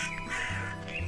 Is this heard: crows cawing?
yes